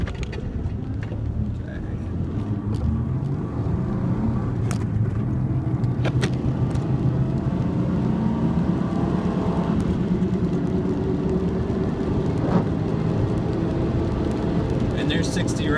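A 1999 Ford Ranger pickup with a 4.0 V6 accelerates hard on an empty road during a 0 to 60 run, giving a steady, loud engine drone and road rumble that holds throughout while a voice talks over it.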